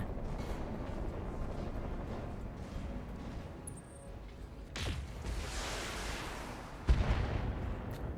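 Missile impacts strike a mech in the BattleTech BTA3062 game, heavy booming blasts and rumbling crashes over a continuous low battle din, with a sharp burst near the end.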